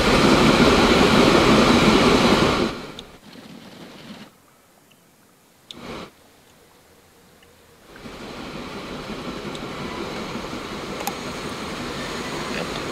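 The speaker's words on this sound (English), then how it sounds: "And the train has arrived at Paradice." In the video game Transport Fever 2, a train arriving at a station sounds like a loud, steady rolling rumble that cuts away to near quiet with a brief click, then a softer steady hum returns.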